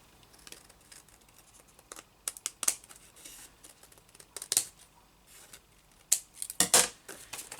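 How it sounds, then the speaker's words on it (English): Scissors trimming a paper journaling fold-out, a series of sharp close snips in irregular bursts, a quick cluster near the end, over a quiet room with no talk. "Let's just trim it down and see what it looks like."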